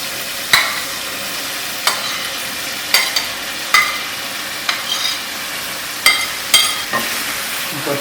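Chickpeas and chicken fry together in a pot for murgh cholay while a spoon stirs them, giving a soft steady sizzle broken by about eight sharp scraping strokes against the pot at an irregular pace.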